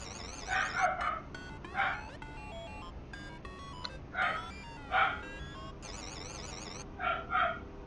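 Small dogs bark and yip in short bursts in Knights of the Old Republic 2, several rounds spaced across the clip, fairly close, with high electronic beeps in between.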